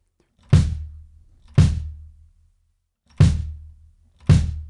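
Four deep, booming bass drum hits played in a counted rhythm, each a close, loud thump with a short decaying tail, spaced in an uneven pattern of two pairs with no talking.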